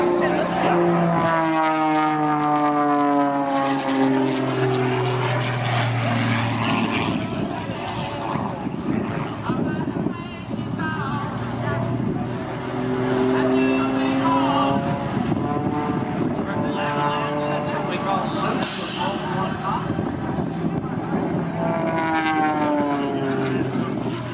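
An Extra 300 aerobatic airplane at an air show makes a loud, sustained propeller drone that rises and falls in pitch as it swoops and passes, with crowd noise and talking underneath.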